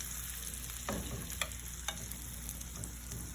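Wagyu rib eye steak sizzling in a pan, a constant crackling fry with a few sharp spatter pops, close and fairly quiet, with no voices.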